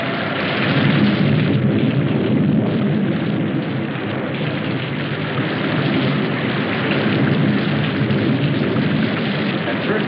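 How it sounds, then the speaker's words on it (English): Heavy rain pours in a steady, loud, dense roar for the whole stretch, with low rumbling underneath that suggests thunder in a storm, from a 1968 science-fiction film. "We didn't pay much attention to the rain, though it seemed heavier than any rain we'd ever seen."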